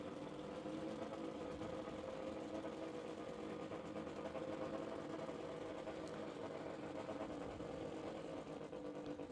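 A nitro drag racing car engine idles roughly and steadily at a distance at Warwick Dragway, Australia, with an uneven, lumpy mechanical rumble throughout.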